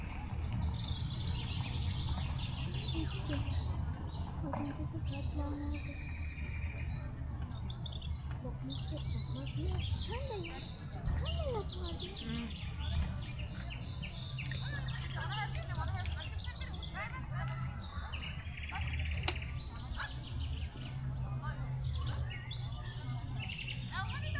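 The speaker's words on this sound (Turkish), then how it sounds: "Kuş seslerini duyuyor musunuz bilmiyorum ama sessiz olalım" Many birds chirp and sing throughout at a campsite, layered calls coming from several directions, with quiet voices murmuring underneath.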